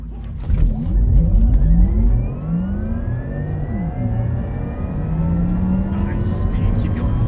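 2023 Porsche Taycan Turbo launching from standstill at full throttle, a loud rising electric motor whine sweeping upward in pitch with tire and wind roar, heard from inside the cabin.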